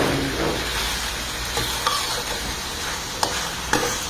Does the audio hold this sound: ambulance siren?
no